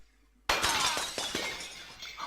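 Glass container shattering in the video game Another World, an abrupt loud crash followed by a dense spray of tinkling fragments that fades slowly, with no talk.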